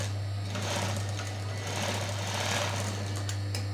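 A sewing machine stitches an abaya, a rapid, steady mechanical whir with a constant low hum beneath it, running unbroken and close by.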